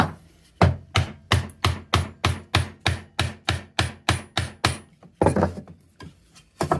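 A chisel is struck repeatedly into wood while hand-cutting dovetails, giving about fifteen sharp, evenly spaced knocks at a steady rhythm, close and clear. After a brief pause, a few more strikes follow.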